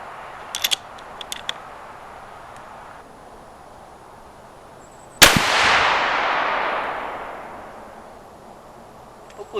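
A single sharp rifle shot from a .22 Creedmoor firing an 85-grain Barnes bullet cracks loud and close, then its echo rolls away over several seconds, with a few small clicks before it.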